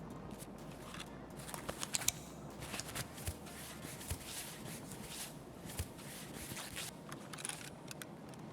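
A Salewa medkit being used in Escape From Tarkov gives quiet, steady rustling and scraping of handled packaging, with small clicks scattered throughout and no speech.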